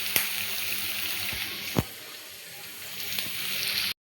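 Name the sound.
onions frying in a pan for gobi manchurian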